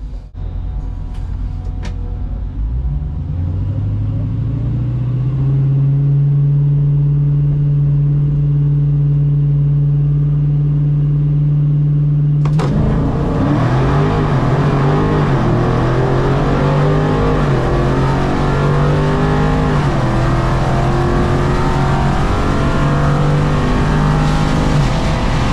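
A bracket class drag racing car at the Legion of Demons event idles with a steady engine drone, then roars loudly as it launches and accelerates hard down the strip, the sound sustained and intense.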